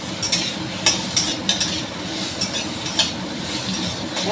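Pieces of coconut sizzle in a hot pan with a tomato base, while a spoon stirs them with regular scraping clinks against the metal. The sound is close and steady and carries no voices.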